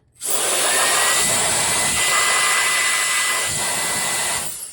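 An electric air duster blows dust off a surface with a loud, steady rushing whoosh that starts abruptly, holds constant for about four seconds, then cuts off, with no voices.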